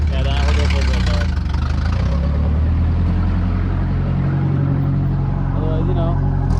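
A 1987 Toyota pickup with a freshly fitted exhaust idles nearby with a steady, low, rumbling drone, and someone talks over the engine throughout.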